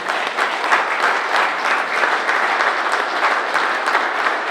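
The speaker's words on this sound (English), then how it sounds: "Give a round of applause." Sustained applause from a sizeable crowd at a wrestling hall of fame dinner, dense and steady clapping throughout with no voices on top.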